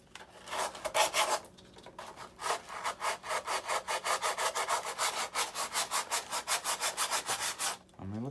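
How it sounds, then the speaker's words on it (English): Coarse 36 grit sandpaper scraping across a model airplane, a rapid rhythmic back-and-forth rasp of close, loud strokes repeating steadily for several seconds. "So that's 36 grit sandpaper."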